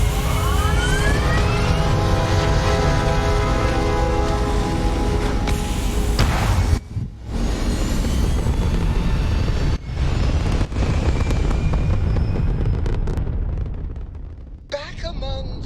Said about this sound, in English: Your thrust is firing.